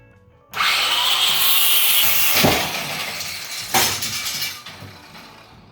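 A power tool cuts metal for a 32-inch round fire grate. A loud, harsh grinding whine starts abruptly, runs steadily and rises in two sharp surges before trailing off.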